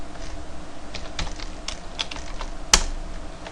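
Typing on a computer keyboard while writing VB.Net code: scattered, uneven key clicks over a steady background hum, with one sharper, louder keystroke near the end.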